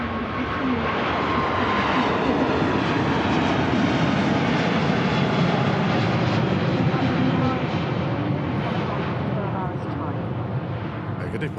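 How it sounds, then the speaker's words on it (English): A Cathay Pacific airliner roars steadily during its takeoff roll and rotation at Manchester Airport, a loud, broad continuous engine rumble that holds throughout. "Mega departure on that Cathay Pacific, heading out to Hong Kong, rotating right in front of the RVP"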